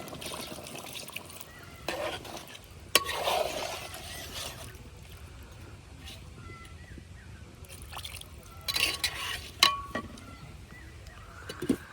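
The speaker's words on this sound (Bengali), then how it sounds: "এই যে এখন দিয়ে দিতেছি জল" Water is poured into a pan of chicken curry that has been browned until the oil separated. Two bursts of sloshing and splashing stand out against a quiet bubbling background.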